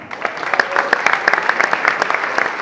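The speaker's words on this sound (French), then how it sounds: "encore vos applaudissements" Applause from an audience at an outdoor FSGT inter-committee podium and prize ceremony in Louplande, with a steady patter of many hands clapping that stays fairly loud and even throughout.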